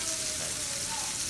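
Meat sizzles in a cast iron skillet, giving a steady, dense hiss of frying with no clear breaks, close and fairly quiet, while faint thin tones drift through it.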